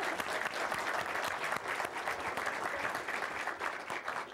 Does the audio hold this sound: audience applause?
yes